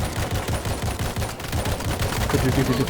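Rapid bursts of automatic gunfire from a fast-firing gun in the video game World War Z, New York level, rattle continuously over a dense, noisy background, loud and close throughout.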